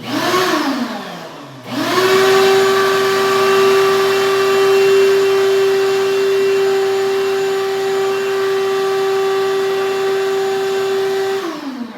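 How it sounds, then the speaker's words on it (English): A household vacuum cleaner switches on with a rising whine, then runs with a loud, steady high-pitched drone for about ten seconds, close and uninterrupted. "Vacuum turns on, dog attacks the vacuum."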